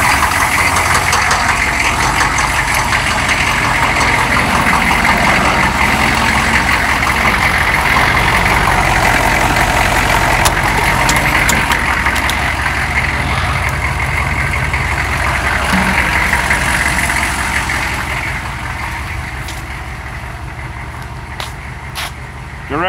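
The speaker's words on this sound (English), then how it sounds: "Crank her up!" A 1993 turbodiesel engine idling loudly and steadily with a low rumbling clatter, close up, settling slightly quieter toward the end.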